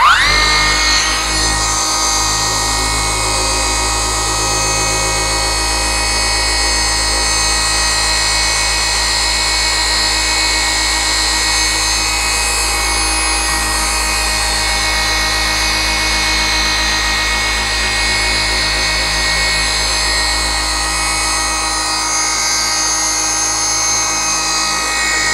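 Cordless polisher runs at full speed, setting 6, on car paint, giving a loud steady motor whine and hum that holds unbroken throughout, with slight load changes as the pad works the surface.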